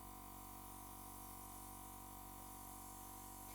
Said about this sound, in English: This is the Pegasus airbrush that I'm using here.